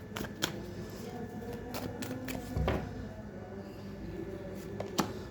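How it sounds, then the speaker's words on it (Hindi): Tarot cards drawn from a deck in a quiet room, giving soft scattered shuffles and brisk slides with a few sharper snaps, close and faint. "लेट्स सी, पहले हम कार्ड्स निकाल लेते हैं।"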